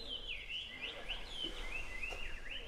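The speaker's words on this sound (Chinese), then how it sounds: "有还有两只小鹦鹉。" Two small parrots at a campsite chirping in quick, continuous high twittering calls, close and fairly clear over a low steady background hum.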